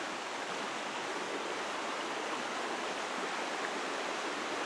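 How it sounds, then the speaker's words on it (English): Yellow Creek in Graham, North Carolina, rushes over small rapids in a steady, even hiss of flowing water, close and continuous with no voices. "Let's listen to the creek for a bit."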